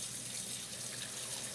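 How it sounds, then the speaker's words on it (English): Water poured steadily into a pan of simmering curry, a continuous close splashing stream with no other sounds. "enough water in there to get it going."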